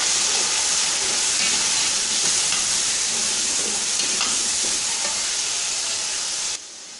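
Chopped tomatoes stirred into fried onions in a hot pan for beef biryani, giving a loud, continuous close sizzle and hiss that cuts off sharply near the end.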